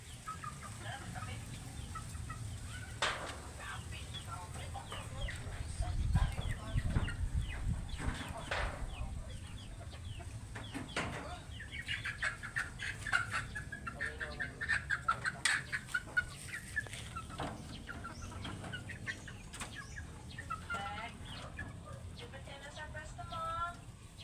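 Chickens cluck and squawk repeatedly nearby, a busy flock with people talking intermittently underneath.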